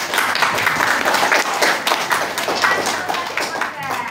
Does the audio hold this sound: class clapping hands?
yes